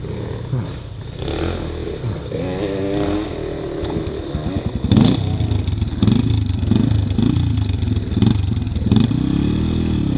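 A big motorcycle rides through shallow water, its engine rumbling and revving in surges while splashing and sloshing bursts break in, loud and close with no talk.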